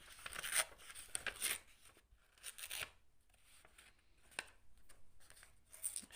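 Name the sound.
paper being torn by hand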